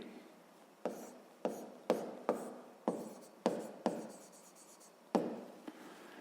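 Pen or chalk strokes scratch out a labelled quadrilateral ABCD for a sixth-grade math exercise, a series of close, crisp taps and short scrapes coming in an uneven rhythm.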